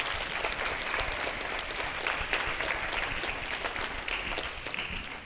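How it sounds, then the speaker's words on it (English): Audience at a school Veterans Day program applauds the veterans, a dense, steady wash of many hands clapping that holds evenly throughout with no talk. "can you guys give these guys a round of applause because they're here for you especially"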